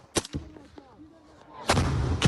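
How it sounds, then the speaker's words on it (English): Artillery fire in war footage: sharp, heavy blasts and a loud rumbling burst near the end, with a voice talking faintly in between. "when you hear the artillery coming down on top of the soldier"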